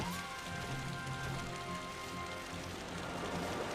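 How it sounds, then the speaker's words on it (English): Rain pouring over a combat area in the video game Final Fantasy XII, a steady hiss of falling drops with soft background music tones underneath, even and continuous throughout. "when you walked into the combat area, it started raining."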